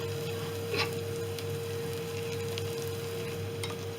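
A ghee dosa roasts on a hot pan over a high flame, giving a steady, close sizzle with faint crackles and no speech.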